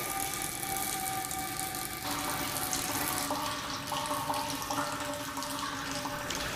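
Water from a permeameter outlet runs steadily into a catcher during a constant head permeability test, a continuous, fairly faint broadband trickle and hiss with faint tonal hum and no speech.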